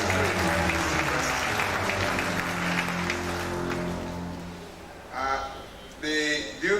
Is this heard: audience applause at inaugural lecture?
yes